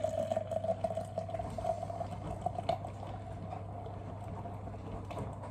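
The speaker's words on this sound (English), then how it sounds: "Let's pour it nice and aggressively." Guinness Draught 0.0 beer pours steadily into a glass with a bubbling, fizzing gurgle over a low constant hum, fading into a softer foamy hiss.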